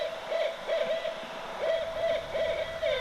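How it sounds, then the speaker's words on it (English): Owls hooting in a repeated, rhythmic series of soft, tonal hoots set within an 80s song demo, steady and clear over a hazy wash of background sound. "The sound of the owls"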